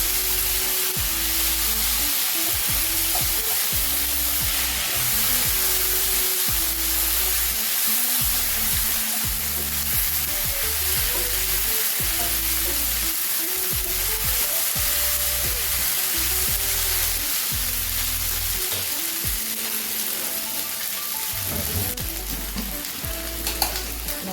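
Ginger garlic paste sizzles loudly in a hot pan while being stirred, a continuous dense frying hiss with scraping stir strokes, close and steady with no voices.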